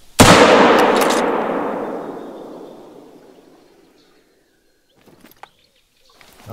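A single loud 5.56 rifle shot in The Hunter: Call of the Wild hunting game cracks sharply and then rolls away in a long echoing tail that fades over about four seconds, followed by faint faraway sounds.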